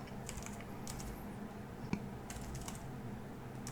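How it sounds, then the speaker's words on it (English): Quiet typing on a computer keyboard at a desk, a short run of soft, rapid key taps over low background noise. "Let's just type it there."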